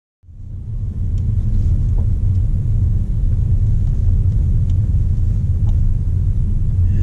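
A manual diesel Peugeot SUV with right-hand drive cruises along a rural Irish road, giving a loud, steady low engine drone and road rumble that fades up quickly and then holds evenly, with no talking.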